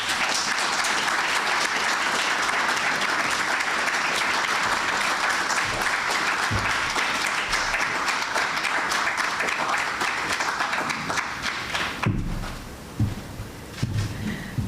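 Audience applause at an investiture ceremony for a Chartered Institute of Arbitrators president, a sustained dense clapping from a large crowd that thins and grows more scattered near the end.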